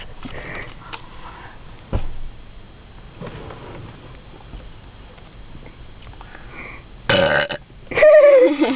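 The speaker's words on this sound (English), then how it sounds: "Gonna chug down your pop and then burp." A person burps after chugging a cola soda: quiet rustling and sniffing first, then two loud, close burps near the end, the second longer and deeper.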